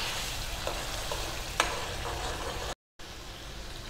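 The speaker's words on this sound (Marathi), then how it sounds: "हेच आपल्याला तेलात शिजून घ्यायचं आहे." Chicken cooks in oil in a pan, a steady, close sizzle with a faint stir click and a brief break in the sound near the end.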